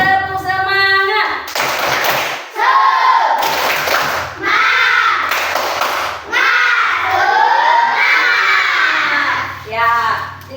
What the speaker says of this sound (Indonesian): Coba semuanya tepuk semangat.